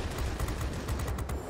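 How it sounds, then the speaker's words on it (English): Aircraft cannons on a Spitfire XVI firing in the World of Warplanes video game, a rapid, continuous rattle of shots at moderate loudness, steady with no pauses. "Hope more pulse firing on the cannons so I don't overheat them."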